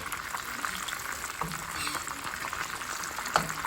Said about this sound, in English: Just to keep that thing frying on each side.